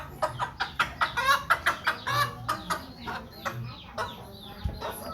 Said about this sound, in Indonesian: Ini di luar pagar ayam masih sibuk mencari-cari makan